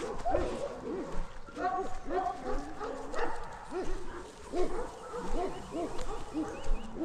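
Dogs running down a street give short barks and yips in quick, uneven bursts, close by and mixed with people talking throughout.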